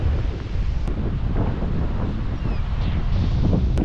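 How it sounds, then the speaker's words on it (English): Strong wind buffets the microphone on an open beach at Assateague Island, a loud, continuous low roar with gusty surges and no voices. "because it's so windy."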